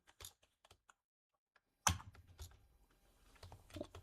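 Keystrokes on a computer keyboard while C code is typed in: a few scattered light taps, a pause, then a denser run of clicky presses, close and fairly quiet, no talking.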